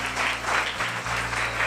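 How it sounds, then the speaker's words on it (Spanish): A church congregation applauding in unison, dense steady clapping from a large group that fills the room at a constant level, with a low background hum underneath. "Dale lo mejor que tengas en tu aplauso."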